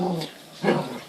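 A dog growls at an alarm clock, a low rumbling growl in two bursts, the second louder, close by with indoor room tone.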